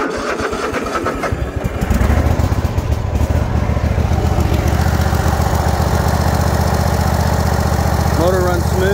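A 60-inch Troy-Bilt Mustang RZT zero-turn riding lawn mower with about 804 hours starts up and settles into a loud, steady idle, running close and smooth. A voice speaks briefly near the end.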